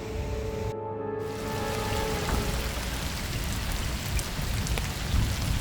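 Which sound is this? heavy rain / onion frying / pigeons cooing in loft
heavy rain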